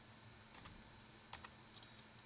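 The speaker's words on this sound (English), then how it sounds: "I can hear it clicking, and you can see the light flashing" A failing hard drive in a Compaq laptop gives faint clicks in small pairs, sharp and quiet, against a low steady hum.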